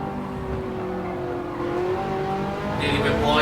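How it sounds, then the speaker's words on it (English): Race car engine droning steadily in Gran Turismo 7, rising in pitch as it accelerates, with a brief high tyre squeal near the end; someone talks over it. "Tyres squealing for help."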